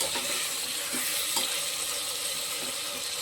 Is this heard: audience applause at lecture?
no